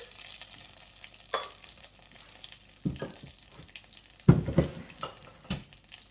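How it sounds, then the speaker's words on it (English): Spoon stirring sugar into German chocolate cake filling in a pot, a few scraping strokes with louder bursts near the middle and end, close and alone with no talk. "And just give this a stir."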